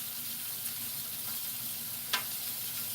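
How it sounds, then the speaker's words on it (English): Thick-sliced bacon sizzles in a hot pan as a steady, close crackling hiss that runs throughout, with one brief pop near the end and no talking. "Oh, hear the sizzle. I like the sizzle sound."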